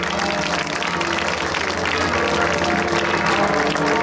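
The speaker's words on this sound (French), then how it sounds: "je voudrais qu'on applaudisse tous les jardiniers de la ville" Audience applause for a town's gardeners during speeches at a 50th-anniversary Saint Fiacre celebration in Sens, a dense, steady wash of clapping from a crowd filling the whole stretch without a break.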